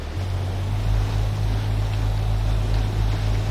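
Boat engine at throttle in the Ship Simulator Extremes game, a steady deep droning hum with a washing water-like hiss, continuous and fairly loud with no speech.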